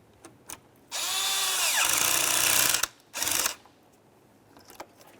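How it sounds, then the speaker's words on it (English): A power driver spins a hose clamp tight on the throttle body of a 2001-2005 Ford Explorer Sport Trac, a loud high whine that rises and drops over about two seconds, then a brief second burst, close by. "Let's tighten this clamp."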